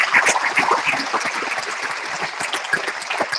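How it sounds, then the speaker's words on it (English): Audience applause at the SCIS Hongqiao Class of 2017 commencement ceremony: a full, even crowd clapping in a large hall that keeps going at a steady level, with no speech over it. "So a round of applause for our other two past"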